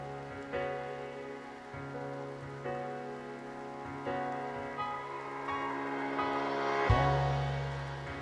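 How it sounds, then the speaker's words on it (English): Rain falls steadily in the video game RimWorld, a soft continuous patter layered under the game's quiet ambient music, with no talking. "We're getting so much rain."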